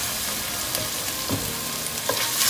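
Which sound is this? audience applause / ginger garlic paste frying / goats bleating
ginger garlic paste frying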